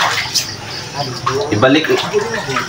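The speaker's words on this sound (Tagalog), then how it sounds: "Balik na ang tubig ulit." Water splashes and runs from a tap while people talk over it nearby, the flow uneven and gurgling.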